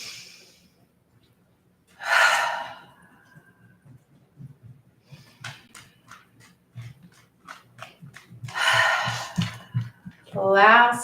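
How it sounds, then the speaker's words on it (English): Slow, deep breathing during a beginner yoga session: long audible inhales through the nose and fuller exhales through the mouth, repeated several times, close and fairly loud, with a calm instructor's voice speaking between the breaths. "cleansing breaths. So in through the nose, big deep breath."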